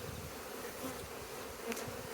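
Honeybees hum and buzz steadily around a hive box during an inspection in April, the colony thick with bees, a faint continuous drone with a few closer passes.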